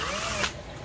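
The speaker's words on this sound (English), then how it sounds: "Gonna go ahead and just drill a hole through," Power drill boring a hole through a part for a DIY aquarium skimmate collector, a loud continuous whirring grind heard briefly and alone.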